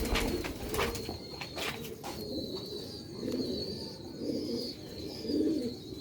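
Sialkoti Ferozpuri pigeons coo close by in soft, repeated rolling calls, with faint chirps and light outdoor background noise.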